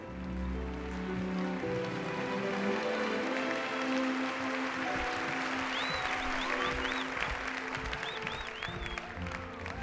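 Audience applause at a talent show, a broad wash of clapping that rises and holds steady, with music playing underneath and a few high squeaky tones near the end.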